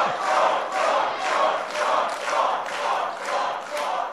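Large crowd at an Alabama election-eve campaign rally for Judge Roy Moore, loud sustained cheering and chanting that swells in regular waves about once a second.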